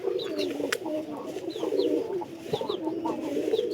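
Pigeons in a loft coo in a steady, overlapping chorus, soft throaty calls repeating close by, with a few higher chirps above them.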